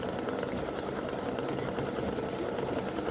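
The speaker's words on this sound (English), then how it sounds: "This is my test stitching" An embroidery machine runs a test stitch-out of a Santa legs and bow side-seam applique design, giving a steady, busy mechanical whir with dense rapid stitching texture throughout, close and continuous with no talk.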